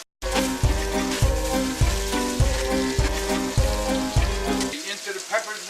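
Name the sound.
potatoes and peppers frying in a pan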